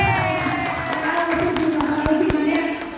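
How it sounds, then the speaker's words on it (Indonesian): Clapping from an audience at an Indonesian education talk, a steady patter of hands with a few sharp claps standing out, fairly close and fading slightly at the end. "Tepuk tangan."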